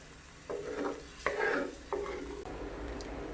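Fish curry simmering softly in a pan, with three distinct scraping stirs of a spoon against the pan over a low sizzle.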